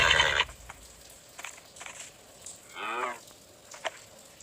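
A short horse whinny from Minecraft rises and falls near the middle, with a brief burst of noise at the start and faint clicks and thumps elsewhere.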